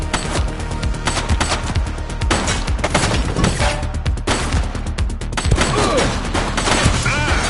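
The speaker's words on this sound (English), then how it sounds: "Shots fired!" Dense, loud gunfire in the police game The Precinct, rapid bursts of shots and impacts crackling almost continuously with small crashes mixed in.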